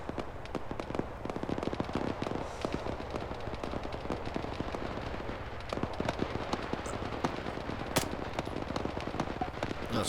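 Gunfire in the military shooter Arma 3: a dense, steady stream of sharp shots and rapid bursts, some near and some distant, rattling on without pause.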